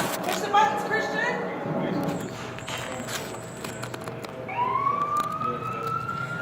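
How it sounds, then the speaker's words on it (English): A toy ambulance's electronic siren rises and falls in a wailing sweep, close by and moderately loud, while a child's and an adult's voices talk over it. "Laji driving an ambulance. Push the buttons, Christian."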